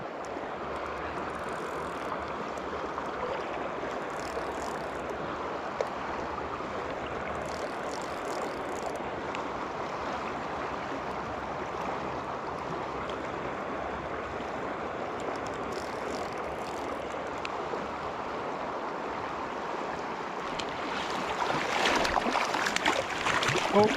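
Swift river water rushes steadily as a broad, continuous wash while fishing during early spring runoff, with a louder surge of splashing near the end and no talk.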